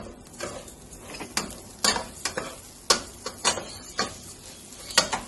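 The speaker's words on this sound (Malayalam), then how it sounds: "നമുക്ക് ഈ അരി ഇട്ടിട്ടൊന്ന് വറുത്തെടുക്കാം" Rice being stirred and fried in a pot with fried onions for mutton biryani, giving a soft continuous sizzle broken by repeated scraping stir strokes and light clinks of a spoon against metal.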